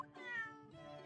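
A cat meows in The Great Ace Attorney Chronicles video game, a single short, clear, tonal meow that rises and falls, close and fairly quiet.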